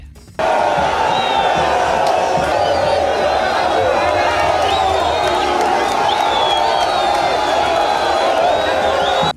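A large outdoor crowd outside Luano airport in Congo cheers and shouts continuously in a loud, dense roar with scattered whistles as the Congolese presidential couple mingles among the people.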